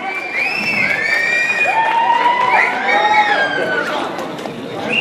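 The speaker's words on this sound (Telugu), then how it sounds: "విజిల్స్ చప్పట్లు గట్టి కొట్టాలే." An audience at an anniversary comedy skit show lets out loud, sustained whistles over a dense roar of cheering and crowd noise, with several whistles overlapping near the listener.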